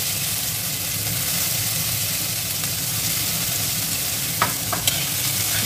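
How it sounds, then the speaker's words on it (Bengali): Chopped ginger, garlic and chilli fry in hot oil with a little asafoetida, making a continuous crackling sizzle with a low rumble beneath and a couple of brief scraping clinks near the end. "একটু লাল লাল করে ভেজে নেব।"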